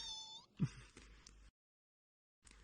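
A cat creature in a video game lets out soft, cute meow-like calls, a short chirpy burst near the start followed by a brief pause of silence and a faint return at the end.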